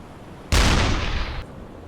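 One loud, booming shot from a U-boat deck gun in the game Uboat, sudden and heavy, ringing out for about a second before it cuts off.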